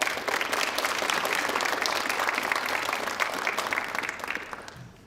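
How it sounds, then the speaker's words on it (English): Students at a school honor society induction ceremony give the parents a sustained round of applause, a dense crowd of clapping that holds steady and tapers off at the end. "Students, if you wouldn't mind giving them a little round of applause as well."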